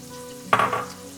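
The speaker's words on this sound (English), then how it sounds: "Oil's still nice and hot, so what I'm going to do is take the garlic and the onion" Garlic dropped into hot oil in a pot for green chile stew sets off a sudden burst of sizzling that flares and then eases within a moment, close and without talk.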